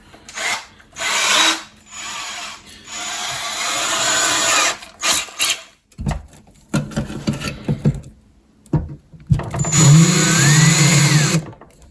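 A power drill whirs in repeated bursts, spinning up and biting into an old 8-bay NAS case, with short pauses and clunks between holes, close by.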